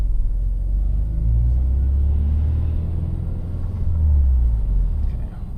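A Subaru WRX turbo engine drones low and heavy while driving, a steady rumbling cabin sound with a swell of boost near the end, no voices.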